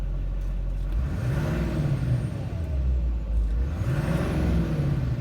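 A 2006 Chevrolet Silverado 2500HD truck with a 6.6L Duramax diesel engine runs at close range, a deep steady rumble that rises twice in brief revs before settling back to idle.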